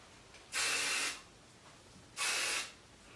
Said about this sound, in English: I'm going to take my hairspray, my freeze it hairspray